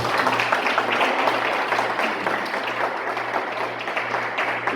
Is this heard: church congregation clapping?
yes